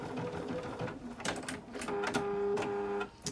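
A sewing machine back stitching along the edge of a fabric placemat tote bag, its rapid mechanical chatter running in short bursts with brief pauses and a steady whirring rhythm, close and clear with no talk.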